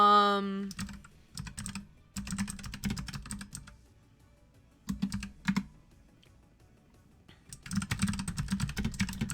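Close-up clatter of typing on a computer keyboard comes in several fast bursts separated by pauses, with a brief voice at the start.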